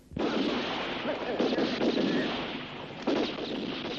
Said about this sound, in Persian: چرا به من تیراندازی میکنید؟